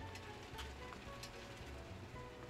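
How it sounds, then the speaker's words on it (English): Heavy rain drums steadily on a nearby surface in a continuous broadband wash at low level, with a few brief louder patters and no voices. "It's raining hard too."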